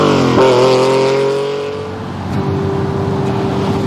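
Sports car engine roaring loudly, a strong growl that eases off, then holds a steady, sustained drone as the car runs on, with no voices over it.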